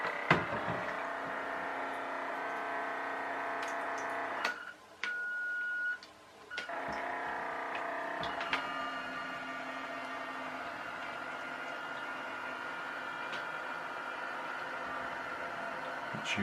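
A radio-controlled RNLI lifeboat model cruises on water, its small electric motor whining steadily and faintly with a high pitched hum that briefly dips and cuts out twice before resuming; no speech is heard.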